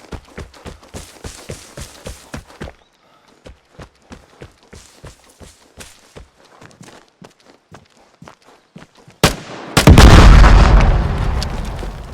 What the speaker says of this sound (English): If you didn't hear those contact bombs